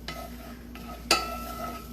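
Two cloves of garlic warm in a pan for New Orleans-style BBQ shrimp while a utensil pushes them around, a faint low sizzle with soft scrapes and one sharp clink against the pan.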